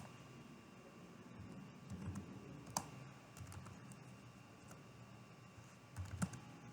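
Git commands typed on a computer keyboard: quiet, irregular key clicks with a few sharper taps, close and alone over a faint background hum.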